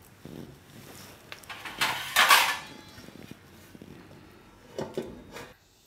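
Kulcha dough in a bowl gets covered in a home kitchen, with close clattering and knocking of a lid or dish, one louder rattle in the middle and softer handling noises after, no speech.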